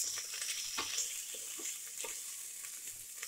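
Ginger garlic paste sautés with fried onions in a pan, a soft steady sizzle with occasional stirring scrapes, close and alone without talk.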